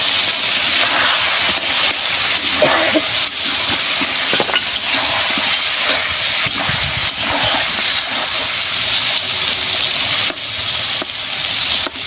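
Mango chicken frying in a pan gives a loud, steady sizzle and hiss that fills the whole stretch without pause, with occasional stirring scrapes and no talk over it.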